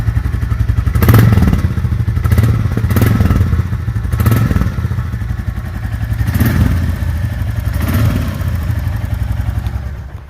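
Close-up revving of a 2024 Royal Enfield Classic 350 single-cylinder motorcycle: about five quick throttle blips rising over a thumping idle with clatter, loud and alone.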